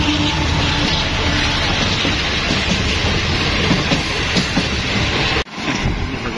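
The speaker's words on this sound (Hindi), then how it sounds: "अब ये चौथी ट्रेन है। ये देखें" A train rolls past on the railway near Ahmadpur Sharqia, a loud, steady rumble with faint clatter that cuts off sharply near the end, with no voices.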